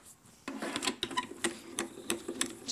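An embossing machine presses a card sentiment with a series of close, sharp clicks and mechanical clunks, irregularly spaced over a few seconds.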